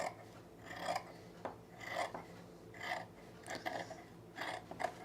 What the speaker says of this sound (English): I'm going to cut the points too.